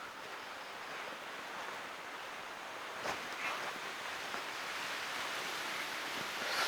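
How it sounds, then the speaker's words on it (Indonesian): Strong wind blowing outdoors, a steady close roar of rushing air buffeting the microphone with small gusts and no talking. "anginnya sangat besar sekali di sini"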